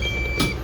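A Deye hybrid inverter sounds its alarm during boot-up while no battery is connected: a thin, steady electronic tone that holds throughout over low background hum.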